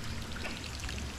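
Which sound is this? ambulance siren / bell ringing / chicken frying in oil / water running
water running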